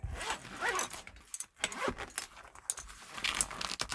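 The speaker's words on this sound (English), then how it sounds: "Unzip the battery." Zipper on a battery bag pulled open in short, quick rasping strokes, close and fairly quiet, mixed with small jangling rattles of the contents.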